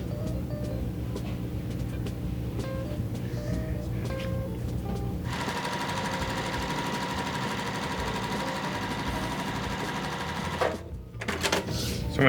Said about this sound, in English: I'm going to sew this quilt block together